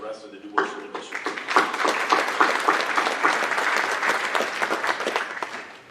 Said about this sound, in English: I'd like to give her a round of applause and the rest of the DuBois School District